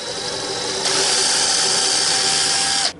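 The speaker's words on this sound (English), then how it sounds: "and then go ahead and drill your hole." A power drill bores a hinge hole into an Old Growth Southern Yellow Pine dovetail box, a loud close whine that bites harder into the wood after a second and stops abruptly near the end, with no talking.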